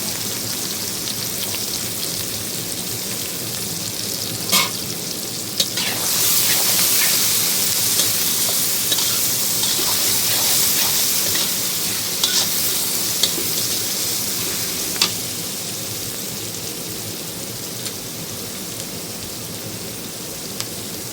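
Sliced onions fry in a kadai wok with a dense, continuous sizzle that swells louder partway through, dotted with sharp little clicks and pops.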